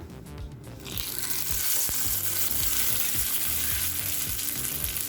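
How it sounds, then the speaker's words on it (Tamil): Mustard seeds, urad dal and curry leaves hit hot oil for tempering a chana dal chutney, setting off a loud, steady crackling sizzle that swells in after the first second and carries on alone. "இப்போ சட்னியை கடுகு உளுந்து கருவேப்பிலை போட்டு தாளிச்சிடலாம்."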